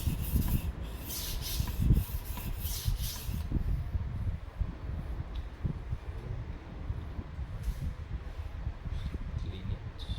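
A chipped kitchen knife stroked across a sharpening stone, a run of close, gritty rubbing strokes that start louder and settle into a softer, steady scraping rhythm with no talking.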